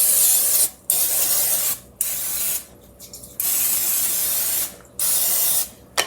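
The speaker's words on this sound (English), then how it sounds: "that is just some olive oil cooking spray so that the cookies do not get stuck to it" Olive oil cooking spray hissing onto cookie sheets in several sharp bursts, each about a second long, with short pauses between them, close and loud.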